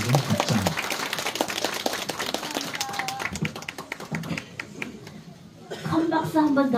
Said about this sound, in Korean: 박수 한 번 더 보내주세요